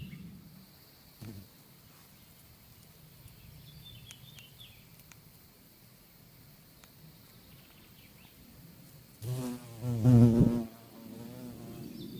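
A faint, continuous insect drone sits under quiet background noise, with a louder buzzing pass near the end as a carpenter bee flies close around runner bean plants.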